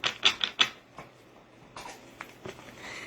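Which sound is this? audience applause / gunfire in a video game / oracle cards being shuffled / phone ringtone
oracle cards being shuffled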